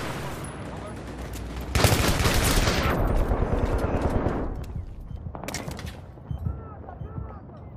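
Bursts of automatic gunfire in the Battlefield 3 Operation Metro map, loud dense volleys with sharp shots trailing off, heard alongside other game sounds.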